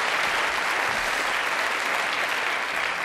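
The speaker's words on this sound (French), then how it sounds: "Ça, applaudissements" Studio audience on a French television talk show applauding steadily, a dense, even wash of many clapping hands that holds at a constant level throughout, with no voices on top.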